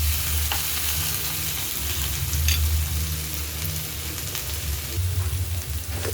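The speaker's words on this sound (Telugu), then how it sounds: "బంగాళదుంప వేగిపోయిందండి" Potatoes sizzle steadily in a hot pan while cooking for Bombay chutney, a dense crackling fry with faint stirring scrapes and no voices.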